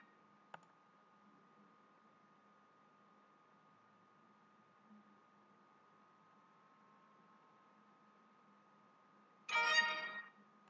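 A single sharp computer mouse click sounds early on while a partition tool is used to format a PS3 hard drive, followed by steady faint background hiss and a brief burst of noise near the end.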